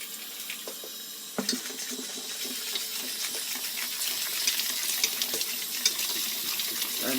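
Cold tap water runs into pakora batter in a kitchen, a steady close splashing pour with small clinks, starting after a short quiet lead-in and continuing to the end.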